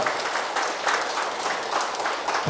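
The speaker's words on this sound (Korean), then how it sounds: "우리에게 박수 한번 보내주십시오." A lecture audience claps together in a sustained round of applause, steady and moderately loud throughout.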